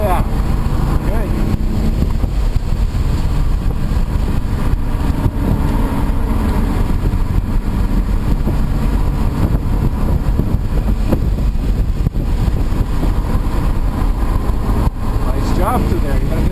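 Audi RS4 at Lime Rock racetrack, heard from inside the car: a loud, steady engine drone and road roar on throttle, with wind noise and an instructor talking over it.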